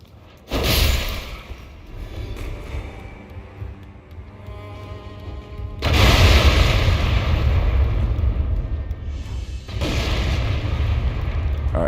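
Turret fire in the Elden Ring Nightreign video game: three heavy booming blasts, each followed by a long rumbling roar, spaced several seconds apart and loud and close.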